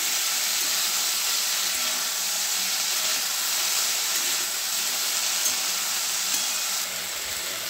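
Malabar spinach leaves, seeds and flowers sizzle in a hot pan as they are stirred, a loud continuous steamy hiss with faint scraping underneath, close up and without speech.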